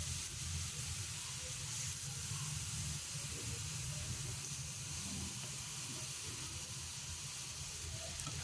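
Chicken liver frying in a pan, a steady, even hiss and crackle of sizzling that stays constant and fairly soft throughout, with no voices.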